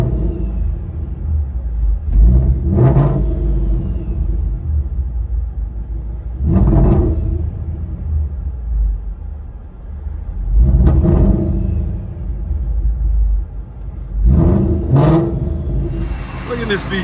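A Procharged Ford Mustang GT with a 5.0L V8 and headers idles with a deep rumble, then revs hard in four separate bursts. It is loud and close, with some voices in the background.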